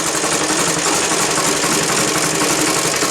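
A Suffolk reel mower's small petrol engine runs steadily at idle while warming up, a loud, close, continuous buzzing drone with a rough, knocking texture and no talk over it.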